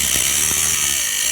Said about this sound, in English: compressor needs to catch up a little bit